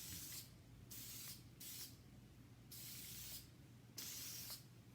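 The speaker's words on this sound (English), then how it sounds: "I'm gonna spray this, and I'm gonna do heavy hold as well." Heavy hold hairspray sprayed onto hair in four short separate bursts, each a steady close hiss lasting under a second, with quiet pauses between them.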